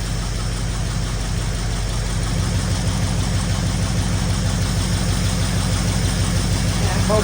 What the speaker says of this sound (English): That motor sounds sweet.